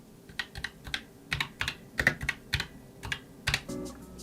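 Brisk typing on an ASUS ROG keyboard with optomechanical switches: a close, irregular run of crisp keystroke clacks, some in quick bursts, ending with a heavier key press, no voices.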